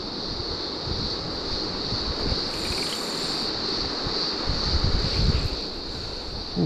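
Cicadas on a warm day by a river sing in a dense, steady high-pitched buzz that carries on throughout, with soft water and wind rumble underneath and no talk.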